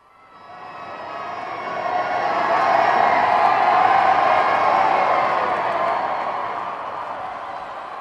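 A vast crowd cheers outside Buckingham Palace on VE Day 1945, a broad distant roar that swells from quiet to a sustained peak and slowly eases, with no distinct voices standing out.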